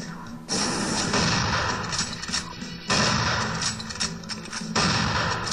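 Gunfire in a modded Doom 3 first-person shooter: loud, dense bursts of weapon fire fill most of the stretch, broken by two short pauses, with no talk over it.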